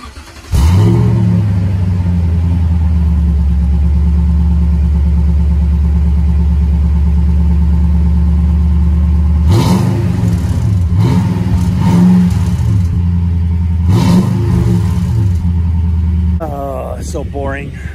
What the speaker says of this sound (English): Just do a quick cold startup, although it's 85 degrees right now.